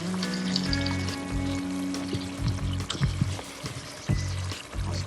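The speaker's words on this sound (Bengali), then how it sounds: "তো এখন আমি এটাকে সুন্দর করে কষাতে থাকবো কষাতে কষাতে যতক্ষণ না কাঁচা ভাবটা চলে যায় আমি কষাতে থাকবো" Spices and onion sizzle as they are sautéed in a pan for Catla fish-head murighonto, a steady close frying hiss with scattered stirring clatters and scrapes throughout, no talk.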